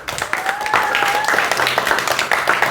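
Children clapping together during an Independence Day discussion, a loud dense round of applause with a few voices and a tonal whistle-like sound mixed in.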